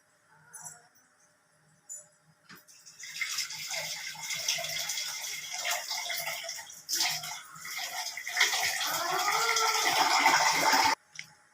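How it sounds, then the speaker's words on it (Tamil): Water is poured from tumblers into a pot of vegetable salna curry, a close, continuous splashing stream lasting several seconds with no talking. "நான் மூணு டம்ளர் தண்ணி விட்டுருக்கேன்"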